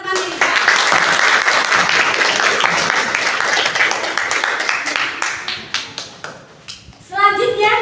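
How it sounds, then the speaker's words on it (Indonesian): A seated audience at a career-guidance event claps in sustained, dense applause for several seconds, fading toward the end before a voice speaks briefly over the last moments. "Beri aplaus untuk teman-teman di depan."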